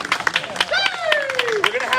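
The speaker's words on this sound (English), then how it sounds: "Give them a round of applause." Audience applauding the one-wall doubles finalists at the Campbell Classic Open, a brief scatter of claps with a rising whistle-like cheer over an announcer's voice and crowd murmur.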